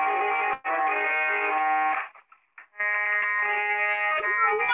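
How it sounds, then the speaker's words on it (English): A harmonium plays sustained reedy chords in a classroom lesson on musical instruments, two steady held passages split by a short pause, loud and close with no talk over it. "This is the sound of harmonium."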